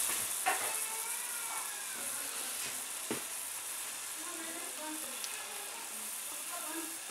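Onions sizzle steadily in hot oil for a lamb karahi, a constant loud frying hiss with a few sharp crackles and stirring bumps, no voices.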